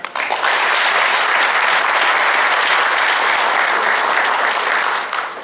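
A crowd at an urban regeneration event gives the minister a big round of applause, loud, sustained clapping that starts abruptly and carries evenly for several seconds before tapering slightly at the end.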